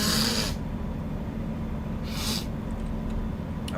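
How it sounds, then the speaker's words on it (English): A yawn sound effect from the video game American Truck Simulator, a driver's long breathy yawn, loud and close, with a second shorter breathy burst shortly after over a steady low truck engine hum. "Is the yawning the same sound effect for the female?"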